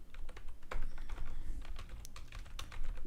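Rapid, uneven keystrokes on a computer keyboard while JavaScript code for an Angular Observable lesson is typed, with close, crisp clicks running continuously for a few seconds and no voice.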